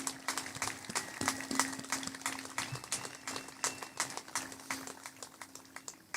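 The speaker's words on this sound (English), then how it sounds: "Let's give them a warm welcome and applause." Steady crowd applause rises for military veterans and service members standing at a high school senior celebration ceremony, a dense patter of many hands clapping at moderate distance without talk over it.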